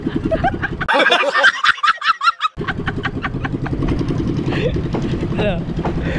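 A fishing boat engine runs with a steady, rhythmic mechanical thumping throughout, partly masked by overlapping voices and a rooster-like call early on.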